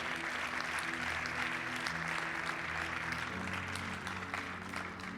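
A church congregation claps during worship, a continuous wash of applause mixed with sustained musical tones that shift chords partway through, fading slightly toward the end.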